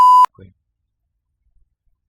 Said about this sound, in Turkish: Buraları evet bipleyeceğim